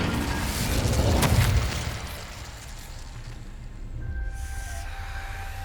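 An incendiary spell cast in Hogwarts Legacy erupts as a deep, rumbling fiery boom that swells over about a second, then fades into a low, lingering roar with a faint ringing tone afterward.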